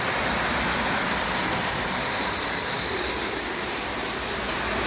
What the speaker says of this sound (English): It's the biggest damn steam engine I ever bought, and it is massive. And here it comes right now.